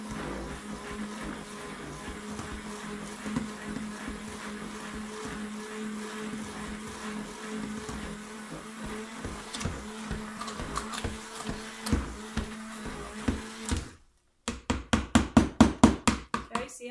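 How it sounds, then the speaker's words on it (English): Stick blender whirring through hot process soap batter, a steady motor drone with rattling pulses for most of the stretch, then a brief cut and several louder, rhythmic bursts near the end. "I'm gonna mix it with the blender here again."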